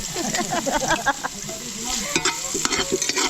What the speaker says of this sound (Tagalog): gisa namin sibuyas